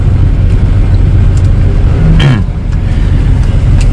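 Steady, loud engine rumble from a 2002 Toyota Kijang LGX with a 2.0 EFI engine, heard from inside the car while waiting at a traffic light, holding a constant low drone with a brief dip midway.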